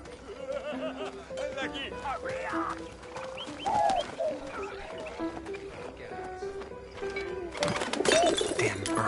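A pigeon in the war video game 11-11 Memories Retold gives soft, repeated coos among clucks and flutters, heard under ongoing conversation.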